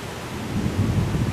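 Stormy weather with gusting wind and rumbling thunder on a nasty day, a steady low roar that rises and swells toward the end, close and fairly loud, with no voices.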